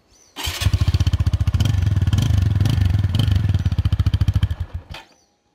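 Dafra Apache RTR 200 motorcycle, engine already warm, revved loudly up close in a rapid pulsing burst that holds for several seconds before cutting off abruptly.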